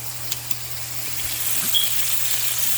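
Quartered vegetables for green salsa fry in a pan, giving a steady moderate sizzle that swells slightly after a couple of faint taps, with no one talking.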